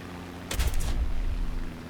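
A bomb bursts close to a Hurricane Mk IIB fighter in the War Thunder combat game, a sudden loud blast with crackling debris that rolls into a lingering low rumble over steady engine drone.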